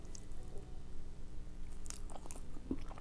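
Someone bites into and chews a piece of cake close to the microphone, producing soft, moist squishing and faint crunching sounds over a low background hum.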